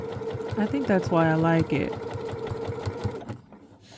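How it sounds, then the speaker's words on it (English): A sewing machine stitches a seam on a boro-style patched blazer jacket, whirring in a steady run beneath a nearby speaking voice before trailing off. "I went ahead and I machine stitched this down."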